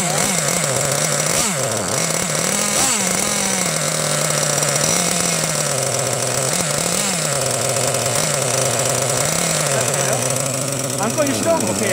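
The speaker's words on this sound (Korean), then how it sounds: "자, 시동 꺼뜨리면 안 되니까요. 자, 시동 거세요." The small gasoline engine of a Losi LST XXL-2 RC monster truck runs continuously during break-in, a loud, close, buzzing drone that rises and falls slightly in pitch as the throttle shifts, with people talking over it.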